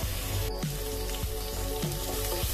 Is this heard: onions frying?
yes